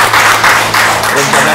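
Audience applause at an Indonesian talk-show chat with an air base commander, a steady dense wash of clapping that stays loud throughout, with a faint hum underneath.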